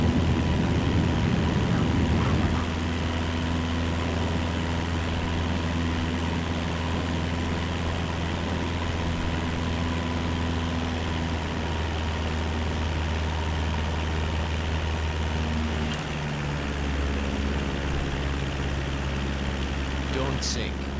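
A steady, loud aircraft engine drone with a low propeller hum continues while taxiing in Microsoft Flight Simulator 2024, holding constant for the whole stretch with a brief shift midway.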